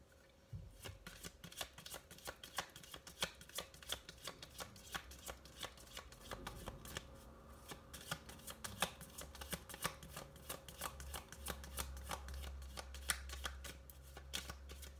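Tarot cards are shuffled by hand in a quiet room, giving a long run of rapid, dense riffling and soft slapping clicks that keeps going through the whole stretch at moderate, close-up loudness.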